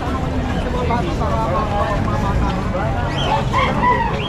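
A rooster crows amid a noisy, bustling crowd at a pet market, with people talking over a steady background din.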